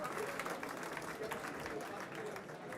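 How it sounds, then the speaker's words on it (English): Audience at an awards event clapping for the nominees, a steady patter of applause at moderate distance with voices mixed in. "round of applause for our nominees."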